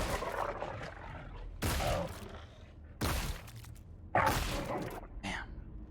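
Heavy gunshots in Scorn land one after another, three loud blasts spaced about a second or more apart, each with a long echoing tail over a dark low drone.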